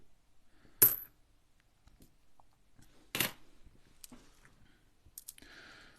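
Australian one and two cent coins are sorted by hand, giving a few sharp metallic clinks and drops spaced a couple of seconds apart, with faint handling rustle between and a brief jingle near the end.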